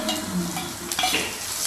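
Dried red chilies and curry leaves frying in hot oil with mustard and cumin seeds, a steady close sizzle with light stirring scrapes throughout, no talk.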